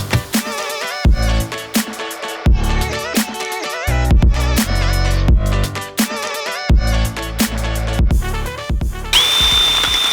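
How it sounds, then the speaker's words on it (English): A drill fitted with an Allen wrench bores into the ground to dig a hole outdoors, a loud whirring motor that starts and stops in short repeated bursts, its pitch rising and falling between bursts. "He's got an Allen wrench attached to that drill"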